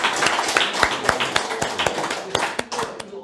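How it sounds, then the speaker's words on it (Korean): Scattered clapping from an audience at a Korean public forum on a slain maritime fisheries official, individual hand claps audible and fairly sparse rather than a full ovation, close and moderately loud. "지금 여러분 격려의 박수 한번 좀 보내주시고"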